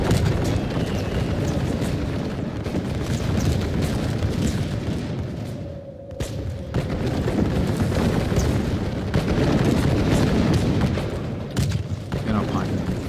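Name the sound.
musket fire from dragoons on walls in a strategy video game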